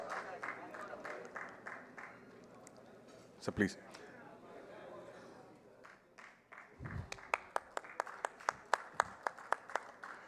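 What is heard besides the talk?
audience applause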